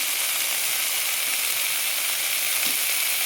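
Paneer frying in a pan with a light sprinkle of turmeric, a steady close bright sizzle that holds evenly throughout, with a few faint soft clicks and stirring touches and no talking.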